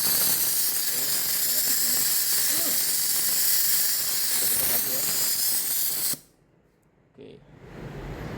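Compressed air hisses steadily and loudly out of an energized solenoid valve outlet during a function test, cuts off abruptly, and after a short silence a softer hiss starts building again; voices are faintly present beneath the rush.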